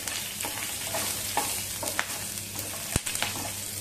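Spice masala of black peppercorns, cloves and chilli pieces roasting in hot oil in a pan, a steady soft sizzle with faint stirring scrapes and one sharp tap near the end, no voices.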